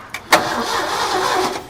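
A 1969 Ford F100 pickup, abandoned for about 30 years, cranks over loudly and close by after a couple of sharp clicks, its starter churning steadily for over a second without the engine catching.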